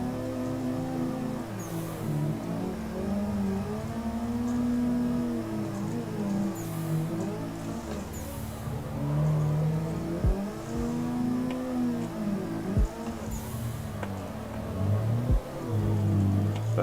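A car drifts in a tandem session of a racing video game, its engine revving and bouncing off the limiter in a continuous loud whine with sharp shifts, and no talk over it.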